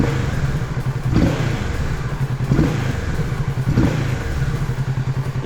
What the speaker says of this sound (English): let me rev it just quickly